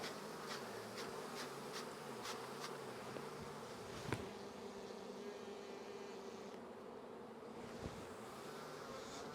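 Honeybees swarm around opened hive frames during a heavy nectar flow, making a close, steady buzzing drone with a few soft knocks from handling the frames.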